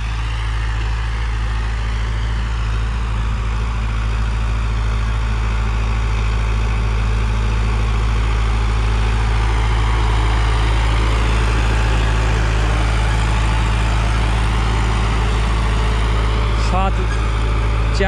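Steady diesel idle of a Preet 6049 Agritrac tractor during a fuel mileage test, a constant low rumble held close and loud throughout, with no talk over it.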